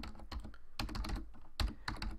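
Code being typed on a computer keyboard in quick bursts of close, clicky keystrokes separated by short pauses, with no voice over it.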